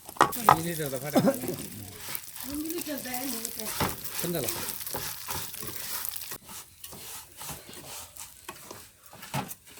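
Vermicelli being stirred and fried until brown for a sheera, with a steady dry sizzle and scraping crackle throughout, under a voice talking over the first half.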